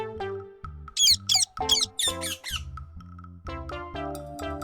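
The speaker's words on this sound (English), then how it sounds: "Parrot." A parrot squawks in a run of harsh, raspy calls, mostly clustered in a burst near the middle, set against a steady tonal musical background.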